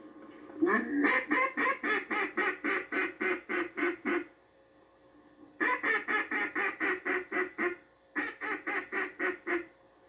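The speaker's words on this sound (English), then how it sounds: "Some people call it a chop call. It's just a demanding type call." A demanding chop call blown on a duck call, loud and close: three runs of rapid, evenly spaced sharp quacks, the first long, the next two shorter, separated by brief pauses.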